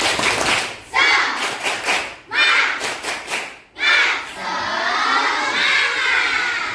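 Elementary school class doing a rhythmic spirit clap, bursts of sharp group clapping in patterned beats with short pauses, ending in a longer sustained stretch of clapping and children's voices.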